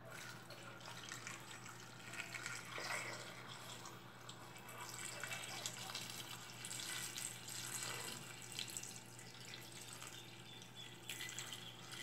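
Mineral water is poured into a bottle, a soft, continuous trickling and splashing at low level with slight fluctuations, heard alone without talk.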